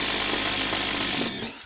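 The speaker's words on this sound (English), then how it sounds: "we got to drill a hole right down here so that we can get our solar panels in from the outside." A power drill boring a hole for solar panel cables during a solar power system installation, a loud continuous grinding whir close by that eases off at the end.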